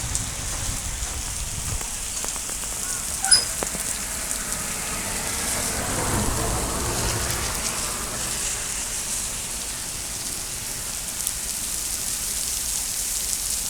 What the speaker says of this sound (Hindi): बारिश की मरतबा फिर शुरू हो चुकी है